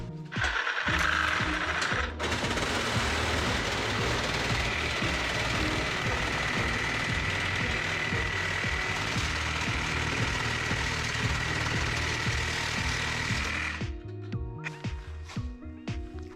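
DeWALT cordless reciprocating saw flush trimming a workbench, a loud, continuous buzzing cut running for about eleven seconds, starting and stopping abruptly, with a few faint knocks after it stops.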